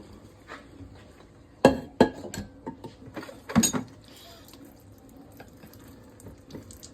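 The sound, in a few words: liquid draining into kitchen sink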